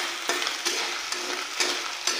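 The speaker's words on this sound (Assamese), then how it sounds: "এইখিনি তেলত মই এতিয়া ভালকৈ ভাজি লওঁ।" Food frying in hot oil in a home kitchen gives a steady, loud sizzle, broken by several brief bursts as it is stirred.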